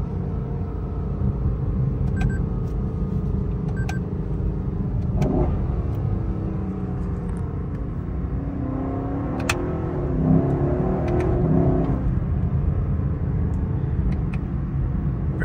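A 2021 Lexus LC500 in manual paddle mode revs hard, its engine rising and falling in two strong surges over a steady rumble, heard close with no talking.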